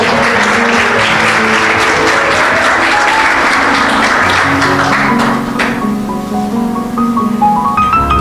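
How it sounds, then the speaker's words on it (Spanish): Loud, dense applause from a church congregation fills the space, many hands clapping together, then thinning partway through as sustained organ or keyboard tones come forward beneath the last scattered claps. "Dale un aplauso al Señor, por favor."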